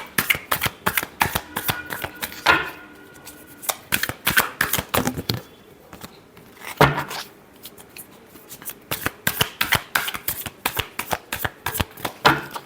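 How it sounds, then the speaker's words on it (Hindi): Tarot cards are shuffled by hand in quick, crisp riffling flurries that come in repeated bursts, with a short pause partway through. The sound is close and clear, with no speech. "Last shuffle."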